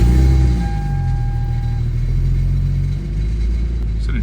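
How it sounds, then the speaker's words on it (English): A car engine idles and runs steadily with a loose nut backing out at the O2 sensor port, giving a low, continuous rumble with a faint tonal whine and a slight dip in level partway through, with no talking. "I feel like the nut that's on where the other O2 sensor goes is backing out. That's the noise we hear."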